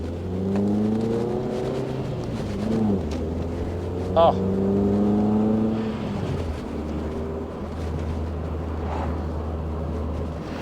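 Peugeot 205 GTI engine revving on the move, rising and falling through the gears with clear pitch sweeps and a steady drone between, close and loud, with brief speech over it.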